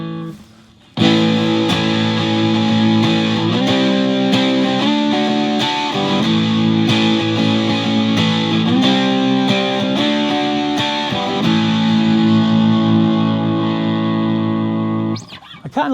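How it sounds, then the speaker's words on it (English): A heavily distorted electric guitar, played through a Pro Co Rat-style distortion pedal, plays sustained, changing chords loudly and continuously for about fifteen seconds, with no talking. "If you're going for distortion, that's a really nice sound there."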